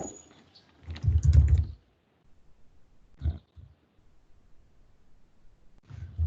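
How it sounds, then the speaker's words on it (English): Someone types on a computer keyboard in short, separated bursts of clicking keys with quiet gaps between them, close and fairly soft, with no talk. "So just type it here."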